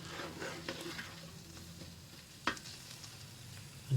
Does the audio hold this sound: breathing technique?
no